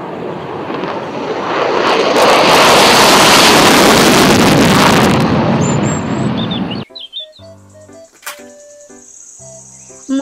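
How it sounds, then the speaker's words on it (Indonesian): A toy fighter jet roars loudly past with a broad rushing whoosh that swells and holds for several seconds, then cuts off abruptly into short beeps and electronic tones. "Pesawat jet tempur."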